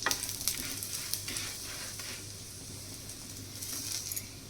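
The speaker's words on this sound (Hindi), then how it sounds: "थोड़ा घी हम इस तरह साइड से डालेंगे तवा पे" Ghee sizzles steadily on a hot tawa under a gobhi paratha, a constant bright hiss with faint crackles and a few soft pops. Nobody speaks.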